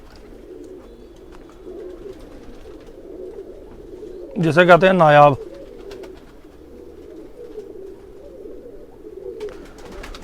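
A female Batera-Tunia cross pigeon gives a short, loud burst of cooing about a second long, standing out clearly over steady background noise, with a person speaking briefly nearby.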